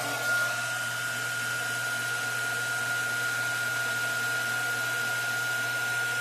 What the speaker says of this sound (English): You take your heat gun